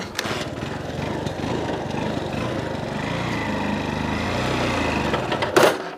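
A motorbike engine drives a homemade bike cultivator in farm soil, a steady loud putter running throughout with a brief clatter near the end.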